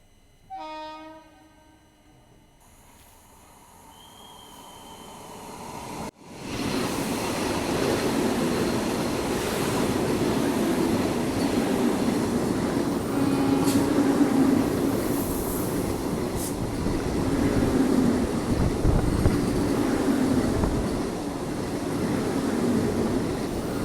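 A New Delhi–SVDK Vande Bharat train passes at a railway crossing, heard from a waiting train at night: after a quiet start, a loud, sustained rumble and rushing roar builds and holds steadily for about twenty seconds, with faint horn-like tones.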